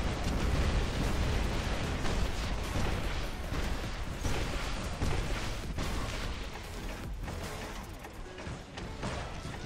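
Explosions from enemies blowing up when killed in a flamethrower and rocket weapon shooter game, a dense, loud, continuous barrage of booms and blasts with gunfire rolling through the whole stretch, easing slightly near the end.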